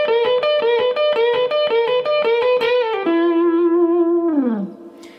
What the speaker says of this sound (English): So one more time, the lick sounds like this.